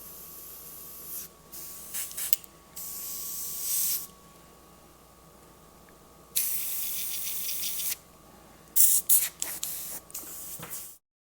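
An airbrush hisses out black and grey paint onto a motorcycle saddlebag in several separate close bursts of varying length, with quiet pauses between them.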